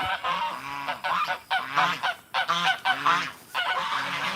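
Several hungry geese on a farm honk repeatedly in quick, overlapping bursts, loud and close, with brief gaps between calls.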